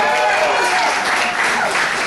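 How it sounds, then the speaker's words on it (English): Dense audience applause at a stand-up comedy show, loud and sustained throughout with a broad wash of clapping and crowd noise. "No, I need more applause than that."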